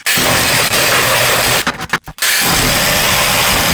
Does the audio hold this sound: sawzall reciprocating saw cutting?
yes